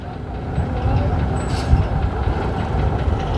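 An old Ikarus bus at a vintage bus meet in Chemnitz gives a short burst of valve hiss over a low idling rumble, with background chatter from the crowd.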